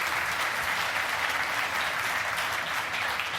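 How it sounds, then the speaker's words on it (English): Steady, moderately faint applause fills the ESA control room during the Rosetta comet landing, an even patter of many hands clapping with no talk over it. "Yes, people applaud you here."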